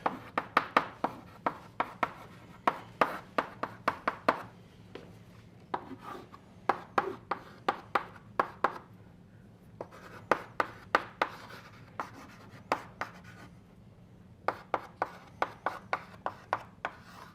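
Chalk or marker writing out equations during a physics lecture: bursts of crisp tapping and scratching strokes come in irregular clusters, separated by brief pauses, with faint room hiss underneath and no talk.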